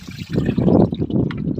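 Water splashes and trickles as it is poured out of a container to be replaced, a short close burst of sloshing liquid.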